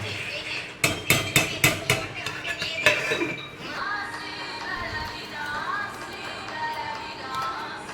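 A spoon stirring payesh, rice pudding, in a metal pot: a quick run of sharp metallic knocks and clinks against the pot, then quieter scraping with faint voices in the background.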